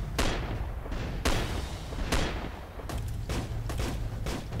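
Composited gunfire sound effects in an independent short film: several loud, booming shots with long decaying tails, irregularly spaced, over a steady background rumble.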